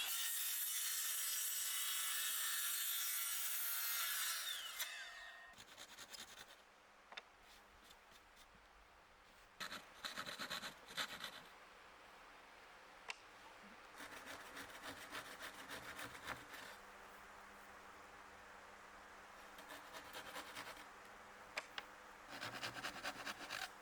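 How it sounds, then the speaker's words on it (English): Handsaw cutting notches in wood for a workshop workbench, a loud hiss of noise at the start, then intermittent bursts of rasping strokes separated by quiet pauses, close by and without speech. "use my handsaw to cut off the little parts that the circular saw won't cut"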